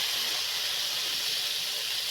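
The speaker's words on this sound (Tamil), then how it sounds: "இப்போ நம்ம பரங்கிக்காய் கட் பண்ணி வச்சுருக்கோம், அந்த பரங்கிக்காயை சேர்த்துக்கிறோம்" Chopped pumpkin tipped into a hot pan for a Tamil-style poriyal, giving a steady, loud, unbroken sizzle and hiss throughout with no voices.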